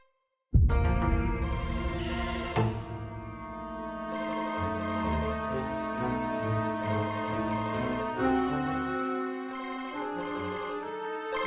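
A mobile phone rings with a melodic ringtone that starts abruptly and then plays continuously and loudly for several seconds, with no one speaking over it.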